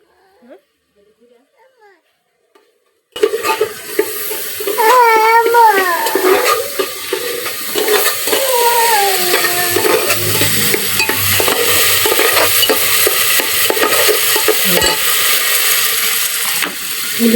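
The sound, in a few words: spices being sautéed and stirred in a pan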